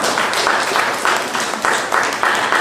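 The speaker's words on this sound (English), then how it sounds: "You can clap to that because I know you're feeling." An audience at a book launch claps together in a dense wash of applause, fairly loud and sustained, rising and falling in gentle waves with no speech over it.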